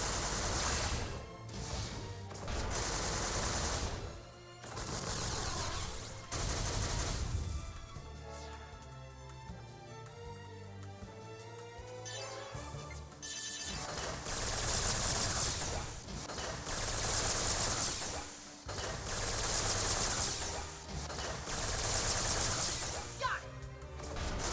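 Dense gunfire and shooting during a battle in the video game Xenosaga Episode III, loud and continuous in repeated bursts alongside music and effects, with a quieter stretch in the middle.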